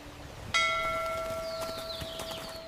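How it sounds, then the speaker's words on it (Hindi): A single bell strikes clearly and rings on with a long, slowly fading metallic tone, with faint extra chimes and taps further off, heard near an old temple path with no one talking. "ये घंटी फिर उसी दिशा से आ रही है।"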